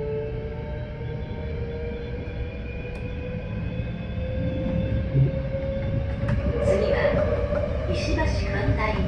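Hankyu Takarazuka Line express train running from Osaka-umeda toward Hibarigaoka-Hanayashiki, heard as a steady rolling rumble and rising motor whine inside the train, with brief higher-pitched squeals near the end.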